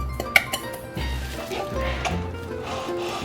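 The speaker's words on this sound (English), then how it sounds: "I'm gonna stir it up here. I'm gonna get that garlic in there." A spoon stirs garlic in a cooking pot, scraping and knocking against the metal with a few sharp clinks at the start, close and moderately loud, followed by softer continuous rubbing.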